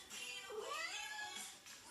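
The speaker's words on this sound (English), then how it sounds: "I don't know whether you can hear my cat meowing." A cat gives a single soft, drawn-out meow, fairly quiet and close, in an otherwise calm room.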